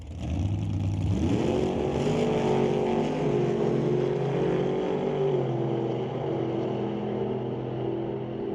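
Camaro drag car making a run at an NHRA test and tune session, engine roaring up to a sustained loud drone after a quick rise, gradually fading as it pulls away.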